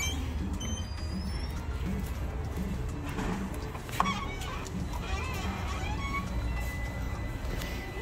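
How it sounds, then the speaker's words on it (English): Chickens cluck intermittently outdoors at a park near a coffee shop, faint and scattered over steady low background rumble and ambient noise. "Look, it's a chicken."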